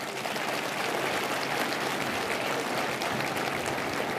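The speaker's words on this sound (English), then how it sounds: "let's give these organizations a great big round of applause" A crowd at an economic development annual meeting applauds local organizations, a steady wash of distant, fairly soft clapping that holds evenly from start to finish.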